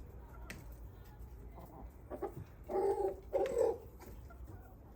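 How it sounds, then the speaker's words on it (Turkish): A chicken, a rooster or hen, approaches in a backyard and gives several clucking calls that grow louder toward the middle, over faint outdoor background noise. "Ay tavuk horoz geldi."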